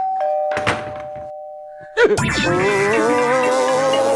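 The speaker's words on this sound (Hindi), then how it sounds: "हाँ, सुन ली भाई, घंटी सुन ली।" A doorbell rings with a sustained electronic tone, followed by a louder ding-dong chime that rings out and fades, with a brief voice under it.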